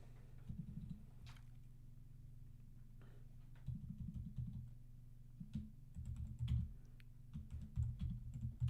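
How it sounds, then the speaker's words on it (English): Typing on a computer keyboard, a steady patter of close key clicks in irregular bursts over a low constant hum. "Why is my keyboard not working?"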